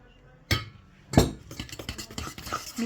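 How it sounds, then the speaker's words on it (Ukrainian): A utensil clinks and scrapes in a bowl while stirring banana bread batter of mashed banana, sugar, eggs and oil, with a few sharp taps followed by quick, close, rhythmic stirring strokes. "І все це ретельно перемішуємо."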